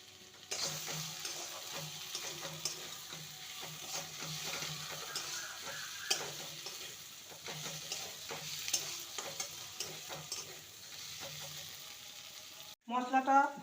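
Chichinga (snake gourd) curry being stirred and sautéed, with a constant low sizzle and a quick run of spatula clicks and scrapes, then a louder clatter at the very end.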